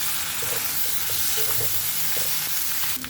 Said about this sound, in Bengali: সব কিছু একসাথে ভেজে নিলাম।